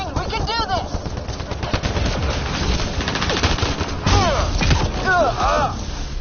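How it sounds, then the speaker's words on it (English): Rapid gunfire bursts and heavy thuds from an alien combat firefight in Mass Effect Andromeda ring out continuously and loudly, with shouted voices and explosive impacts mixed in. "Just keep firing, we can do this!"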